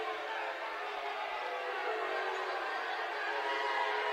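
Basketball crowd in a college gym loudly jeering and booing a referee after a foul call, a steady dense roar of many voices with no pauses.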